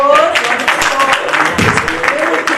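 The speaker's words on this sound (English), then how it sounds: "Round of applause." An audience gives a round of applause for the Gabon team at the opening of the Simunye Cup 2018 tournament, a steady dense clapping that fills the moment while a voice talks over it.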